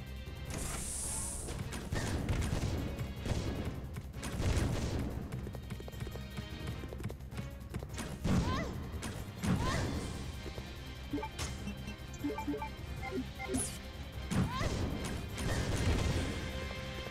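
Sweeper enemy fight in the PS2 game Resident Evil Code Veronica X: heavy thudding footfalls and sharp crashing impacts come in repeated bursts with clattering hits between them, loud and busy over a steady game background, with no speech.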